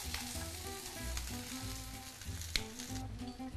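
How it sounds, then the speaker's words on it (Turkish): Sucuk sausage and halloumi cheese sizzle steadily while being stirred together in a hot frying pan, a close, continuous crackle broken by occasional scrapes and one sharp clack. "Fakat sucuklarım ve hellimlerim bir daha ısınsın diye tekrar bu güzel lezzetli şeyin içine atıyorum. Ve birlikte karıştırıyorum."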